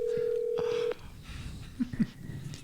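A telephone call is dialed, with a steady electronic tone lasting almost a second, followed by faint clicks and low background noise.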